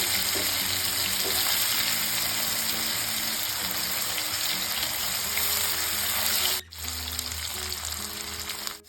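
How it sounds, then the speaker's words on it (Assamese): Loud, steady sizzling of paneer frying in hot oil, briefly cutting out near the end before the crackling hiss resumes. "তেলখিনি আমাৰ গৰম হ'ল, পনীৰ কেইডোখৰ ভাজি লওঁ।"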